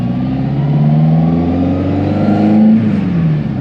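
A Ferrari 308 engine idles and revs up, a rich, steady mechanical drone that swells louder before settling, close by with no talk.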